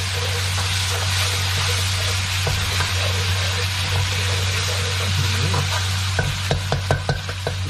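A splash of water goes into a hot pan of fragrant Thai chu chee paste for pla pin kaeo fish, giving a loud continuous sizzle and bubbling, with a steady low hum and a few sharp clinks near the end.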